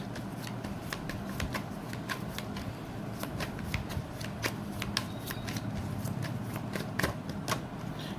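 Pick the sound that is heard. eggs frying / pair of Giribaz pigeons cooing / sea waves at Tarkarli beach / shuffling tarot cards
shuffling tarot cards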